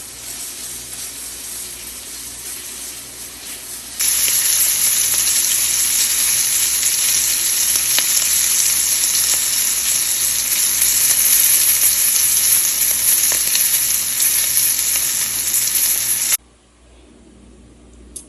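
Sausages sizzle hard while browning in a pan for a seafood boil, a loud steady crackling hiss that swells partway through and then drops away near the end, with no talk.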